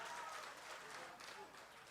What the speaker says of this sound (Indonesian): Tepuk tangan buat ISP.